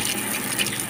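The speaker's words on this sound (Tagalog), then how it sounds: "kita nyo, lakas ng tubig na" Water rushes steadily from newly connected faucet pipes during a plumbing test, a continuous broadband gush that stays loud and close through the whole short moment with no speech over it.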